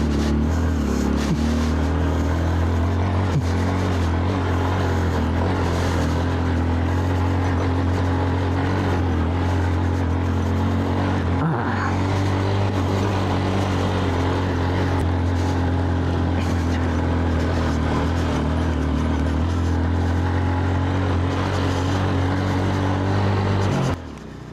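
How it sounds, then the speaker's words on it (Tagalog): A motorcycle engine runs steadily and loudly up close while riding along a rough, overgrown road, with a continuous low drone and a brief bump midway. "So dito kaya pa nating dalhin yung motor natin."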